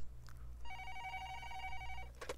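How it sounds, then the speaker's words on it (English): A telephone rings in one steady electronic burst lasting about a second and a half, fairly quiet over a low background hum. "the phone immediately started ringing."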